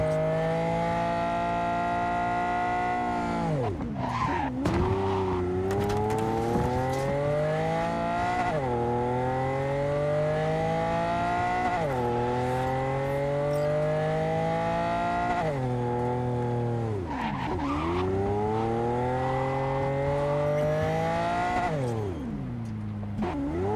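A car engine in a racing video game revs and accelerates through repeated gear shifts, its pitch climbing steadily and then dropping at each change, loud and continuous with no voices.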